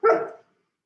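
A pet dog gives a single short bark, close and fairly loud, with no other sound around it.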